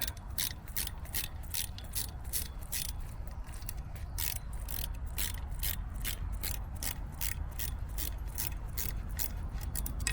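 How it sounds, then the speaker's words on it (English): A small ratchet tightening hex bolts clicks in a fast, steady series of sharp metallic ticks for about ten seconds, close up over a low background rumble, with no speech. "Take the little ratchet."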